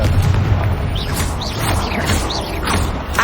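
Hogwarts Legacy combat with Confringo and Bombarda spells: dense, loud bursts and booms overlapping in quick succession, with whooshing magical streaks and a constant rumbling low end throughout.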